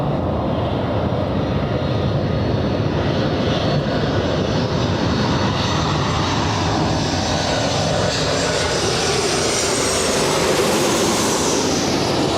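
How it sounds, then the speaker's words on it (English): An American Airlines Boeing 737 arriving from Chicago O'Hare lands at Los Angeles International, a loud, continuous engine roar that stays close and steady the whole way. "arrival is the 737. American Airlines, American 1987"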